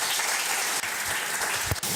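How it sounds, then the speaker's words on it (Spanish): A lecture audience claps loudly and densely to welcome a speaker, a short burst of steady applause with no voices over it. "Lo recibimos con un fuerte aplauso."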